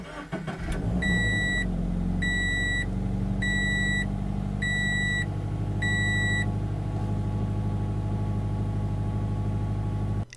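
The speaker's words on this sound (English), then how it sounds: "just push the button to make the engine come alive" A 2017 Subaru BRZ Series.Yellow catches with a quick crank, then settles into a smooth, steady idle while a chime beeps five times in a regular rhythm, close and clear with no talk.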